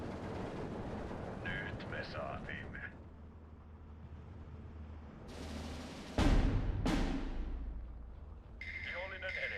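Machine gun fire and explosions in the WWII strategy game Steel Division 2, set in Karelia, with a sharp loud blast near the middle followed by a sweeping crack, over a steady rumble of battle noise and intermittent voices.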